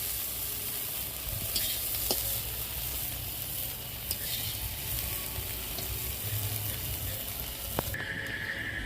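Prawns frying in hot oil until reddened, a continuous quiet hiss of sizzling with a few small clinks from a utensil against the pan.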